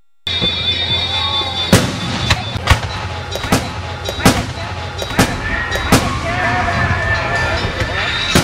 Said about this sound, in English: I think I'll shoot off some fireworks